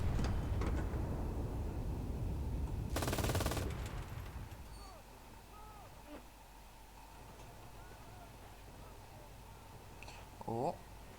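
A cannon blasts in the World War II shooter game Enlisted: a sharp, loud boom near the start, with a second burst and crackling rumble following, then fading into quieter background ambience with faint scattered game sounds.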